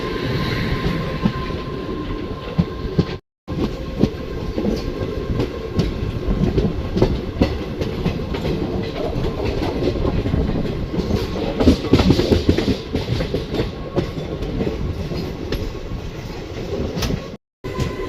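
A Hadapsar Express passenger train runs from Pune toward Hyderabad, slowed but not stopping, heard from on board. Its steady, loud rumble and clatter of wheels on rails fills the whole stretch, broken only by two very brief dropouts.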